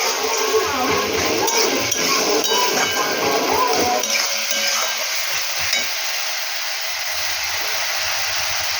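Water poured into a pan of frying fish, a Bengali-style fish curry: a loud, steady hiss and sizzle that drops to a softer, calmer bubbling partway through, with light clinks.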